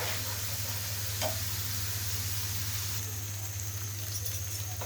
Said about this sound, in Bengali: রসুন বাটা আর আদা বাটা দিয়ে এখন সুন্দর করে এখন কষিয়ে নিব